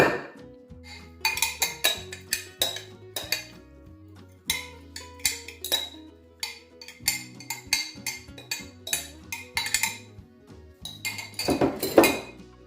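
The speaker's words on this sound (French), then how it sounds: "je vais le transvaser avec une cuillère" A spoon clinks against dishes while sauce for ndambé with meat is transferred, giving a steady run of bright, close metallic and ceramic taps with irregular rhythm and a louder clatter near the end.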